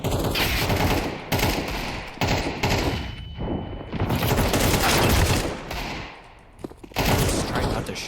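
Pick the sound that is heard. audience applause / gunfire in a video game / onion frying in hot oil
gunfire in a video game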